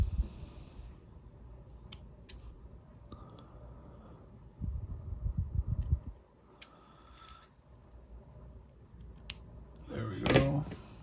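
Scissors snip through shirt fabric in a quiet indoor setting. A few soft, close cuts and rustles of cloth are followed by a louder crunchy clip near the end.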